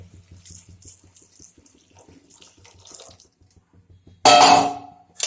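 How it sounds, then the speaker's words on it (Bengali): Water gushes into a cooking pot of boiling taro in a loud burst lasting about a second, after a stretch of quiet kitchen clatter. "এবার দিয়ে দেবো জল।"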